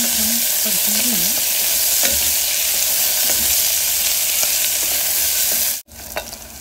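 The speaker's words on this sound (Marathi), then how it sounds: "या ठिकाणी आपला हा कांदा परतून झालेला आहे" Onion sautéing in oil in a pan for soya biryani, with a steady loud sizzle, scattered scraping ticks from stirring, and a brief break near the end before the frying resumes.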